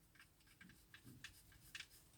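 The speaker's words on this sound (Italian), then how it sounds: "Facciamo girare il cacciavite al contrario e sentiamo il click." A small screw catching its thread as a screwdriver is turned backwards while assembling a De Agostini Iron Man model, giving a few faint, quiet ticks and clicks spread across a couple of seconds in a hushed room.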